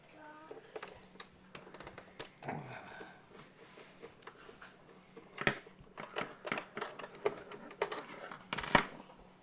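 Long metal screws taken from an original Xbox console clink and tick against a hard surface in a quiet room, several small sharp metallic clicks that grow busier and louder toward the end.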